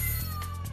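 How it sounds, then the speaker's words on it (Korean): A single drawn-out kitten cry comes from behind a wall, steady and muffled over a low background hum. "벽 뒤에서 들리는 울음소리."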